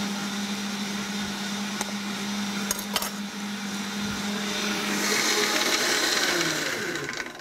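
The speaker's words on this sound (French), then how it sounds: "Je laisse mixer, je veux vraiment qu'il y ait une émulsion qui se crée." Blender whirring continuously as it purées tuna, celery and pear into an emulsion, a loud steady motor whine that shifts pitch near the end, no voices.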